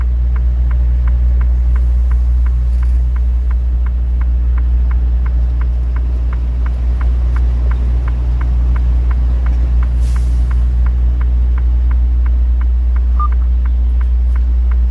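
A truck drives along the road, heard as a loud, steady low engine rumble with a constant regular ticking throughout, continuous for about fifteen seconds with no speech.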